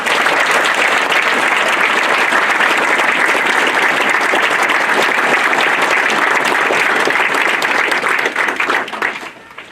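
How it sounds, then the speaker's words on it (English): A memorial service audience gives the readers a round of applause, dense sustained clapping from many people filling the room at full strength before tapering off near the end. "I think John would approve if we all gave them all a round of applause"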